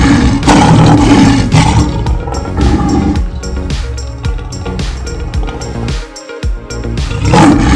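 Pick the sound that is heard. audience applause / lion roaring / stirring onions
lion roaring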